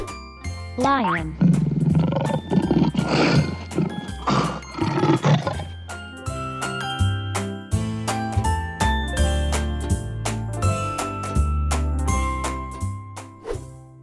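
Deep, rumbling lion roars rise and fade over the first half, set against steady quiz-game music that continues alone toward the end.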